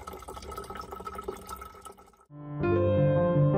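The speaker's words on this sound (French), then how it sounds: "une bouteille d'eau bien remplie" Water pours from a fountain into a bottle along a pilgrimage route between Estella and Los Arcos, a splashy trickle that gives way to a steady, rising, louder fill tone as the bottle takes on water.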